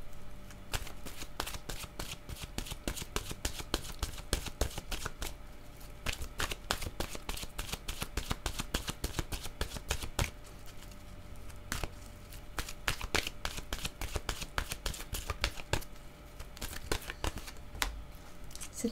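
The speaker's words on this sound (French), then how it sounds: "de me donner une carte de mon oracle de l'âme intuitive" Oracle cards being shuffled by hand, a steady run of crisp riffling and slapping bursts that carries on close and clear for the whole stretch with no talking.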